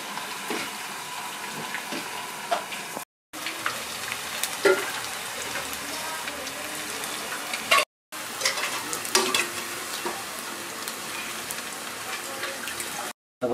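Thin potato strings for crispy jhuri deep-fry in hot oil with a dense, continuous close sizzle and scattered spatters, briefly cut by a few silent gaps, without speech.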